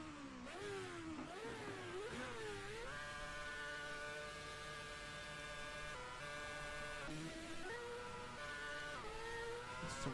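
Racing car engine in the sim game Assetto Corsa, revving and shifting through gears with rising and falling pitch, then holding a steady high drone at full throttle, loud and continuous with no talk.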